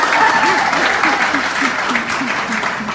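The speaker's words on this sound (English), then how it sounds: "Can we get a round of applause?" Wedding guests give a loud round of applause during a brothers' toast, a dense, sustained clapping close by with cheering voices rising through it.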